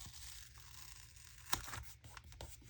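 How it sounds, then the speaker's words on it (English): A strip of masking tape torn close by, a short crackling rip with one sharp snap in the middle over quiet room hiss. "This is masking tape."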